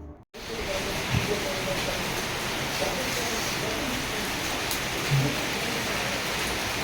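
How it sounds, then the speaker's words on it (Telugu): Steady, dense rainfall hisses continuously, close and fairly loud, with no talking. "బయట వచ్చి చూస్తే వాన పడుతుంది"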